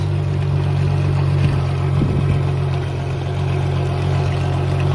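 Engine of a 1998 Ercoa pontoon boat running steadily under throttle, a continuous loud low drone with a brief surge in the middle, no voices.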